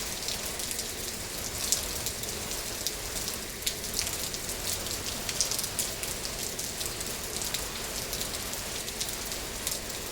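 Steady rain patters densely on a surface, with occasional louder drops standing out against the constant hiss.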